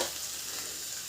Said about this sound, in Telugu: ఇవన్నీ అయితే ఇట్లా కాసేపు ఫ్రై చేసుకోవాలి